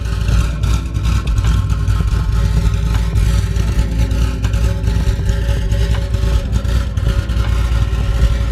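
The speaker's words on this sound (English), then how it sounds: "Let you guys hear the chop." A 2008 C6 Corvette Z06 with an aggressive cam sits idling nearby, its engine loping in a steady uneven chop with a deep rumbling pulse and no one speaking.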